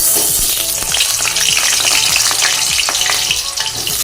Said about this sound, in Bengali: তেজপাতা জিরা ফোড়ন দিয়ে ভালো করে একটু ভেজে নিই